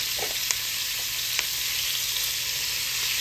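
Carrot, celery and onions frying in a pot as the base for braised beef short ribs, a steady close sizzle with a few small pops and crackles throughout, no talk.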